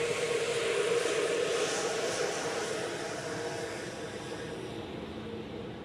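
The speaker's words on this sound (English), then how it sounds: "Swiss A320 Neo to London Heathrow" A Swiss Airbus A320neo taxis at high speed at Zurich Airport, bound for London Heathrow, its engines giving a steady, loud, broad roar that eases slightly toward the end, with no talk over it.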